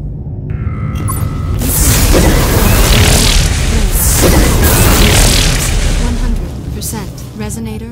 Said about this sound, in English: Resonator destroyed.